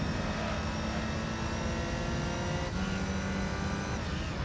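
Car engine in the Gran Turismo 3 racing game, a steady loud droning hum at sustained revs with a slight pitch shift partway through, alone with no talking.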